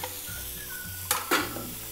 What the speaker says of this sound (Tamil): இப்போ அதே கடாயில் நமக்கு பெரண்டை வதக்கி எடுத்துடலாம்.